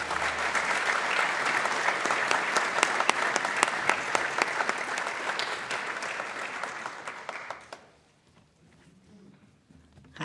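An audience claps steadily to welcome a speaker onto the stage, a dense, even applause that fades out over the last few seconds into quiet room noise.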